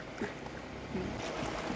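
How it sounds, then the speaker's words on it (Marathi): A round coracle boat moves across water with soft, steady lapping and swishing close by, fairly quiet and without any voices. "ही गोल होडी आहे"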